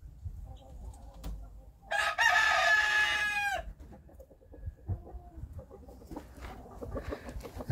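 A rooster, being tested for the blue-egg gene, crows once loudly and nearby, while hens cluck and chicks chirp softly around it in a farmyard.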